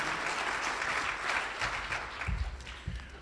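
Sustained applause from a crowd gathered for a breast cancer fundraising kickoff, honoring Manatee Memorial Hospital, dense and steady throughout with a few low thumps toward the end.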